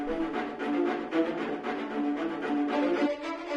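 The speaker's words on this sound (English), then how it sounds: "In this case, the violas sound like this." A viola section from a sample library plays an epic cinematic string ostinato in rapid sixteenth-note bowing, steady and full with a dense repeating pulse, heard alone with no voice.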